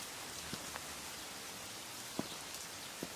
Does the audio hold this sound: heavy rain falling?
yes